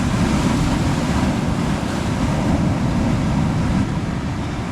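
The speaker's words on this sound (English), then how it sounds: "Here comes a wave." Ocean wave washing over rocks along a rocky shore, a loud, continuous broadband rush of surging water and spray mixed with wind, steady throughout.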